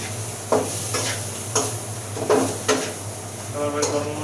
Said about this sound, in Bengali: ওটা নাড়া দেন না ভাই নিচে লাগিয়ে দেবেন মশলাটা